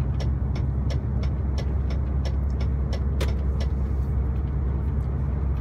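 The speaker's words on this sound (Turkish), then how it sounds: "arabamızı aldık, şimdi yukarı doğru tıkıdık tıkıdık gidiyor" A car on the road in Munich, Germany, driving uphill, with a steady low engine and road rumble throughout and faint clicks over the top.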